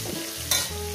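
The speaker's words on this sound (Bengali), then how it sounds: "আমি এই মাংস ভাজা করছি" Chicken pieces fry and sizzle in a pan for a white mustard chicken dish, a brief close crackling hiss with a stirring scrape and no voices.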